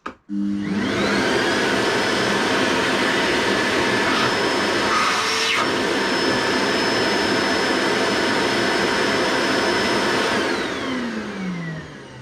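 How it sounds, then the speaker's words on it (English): An Evolution R15 shop vacuum in vacuum mode starts up with a whoosh, roars steadily with a high whine for several seconds, then winds down as the motor spins off. "let's just put it on as a normal vacuum and see how loud it is"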